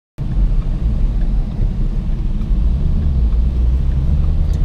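A 700 HP Shelby's engine at a steady, loud low rumble from start to finish, close and constant, with no voices over it.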